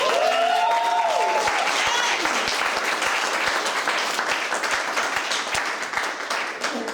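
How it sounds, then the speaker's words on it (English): Loud crowd applause at a Democratic committee campaign grand opening, a sustained dense clapping that fills the whole stretch, with a voice briefly heard over the start. "Give yourselves a round of applause."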